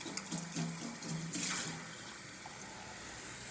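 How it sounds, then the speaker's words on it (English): Water poured into a cup of tea in a short, close splashing trickle that fades into quiet after a couple of seconds. "So I'm just adding water to my tea over here."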